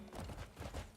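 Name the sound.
summoned horse hooves in video game Crimson Desert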